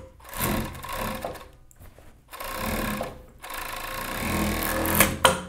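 An overlock serger stitches the seams of a child's shirt in close, buzzing bursts, running a second or so, pausing, then running again, with small mechanical clicks near the end.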